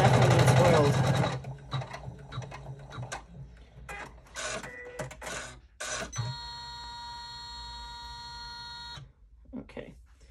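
A home embroidery machine stitches a double zipper clutch, giving a steady mechanical whirr with high-pitched tonal hum for several seconds, broken by clunks and short bursts of handling noise, with speech at the start.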